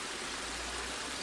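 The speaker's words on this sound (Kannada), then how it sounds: "ಜೋರಾಗಿ ನೀರು ಬೀಳುತ್ತಿರುವ ಶಬ್ದ" Water crashes loudly and steadily down an artificial waterfall modelled on Niagara Falls, dropping about 10 to 15 feet; a dense, continuous roar with no voices over it.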